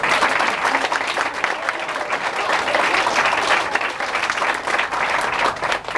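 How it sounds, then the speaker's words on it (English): Loud, dense applause from a school class-election audience in East Dover, 1997, many hands clapping steadily and evenly throughout. "Let's have a round of applause."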